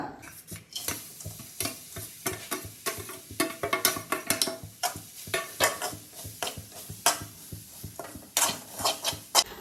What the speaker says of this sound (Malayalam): ഒരു തേങ്ങ അത് തിരുമ്പി വെച്ചിട്ടുണ്ട് അതിന്റെ നനവ് മാറുന്നിടം വരെ ഒന്ന് ചൂടാക്കി എടുക്കാം